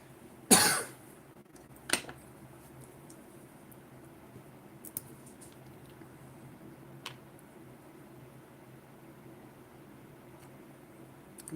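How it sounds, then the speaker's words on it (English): A single sharp cough near the start in a quiet room during a miniature painting session, followed by a fainter throat noise and a few soft clicks over low background hum. "I just heard myself cough on my stream"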